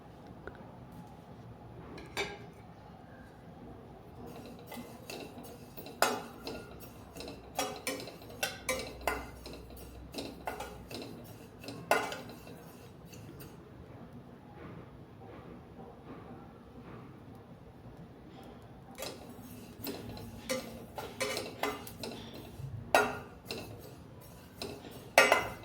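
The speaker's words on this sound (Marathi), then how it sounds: "मी हे तीळ मस्तपैकी छान भाजून घेणार आहे." Sesame seeds roasting in a pan are stirred with a metal spoon, giving irregular clinks and scrapes against the pan over a low background hiss, sparse at first and busier near the end.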